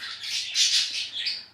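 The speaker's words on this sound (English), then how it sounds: "And I'm really sorry about the birds." Birds squawk outdoors in a short, loud burst of harsh, high calls that rise and fall without pause, with no speech over them.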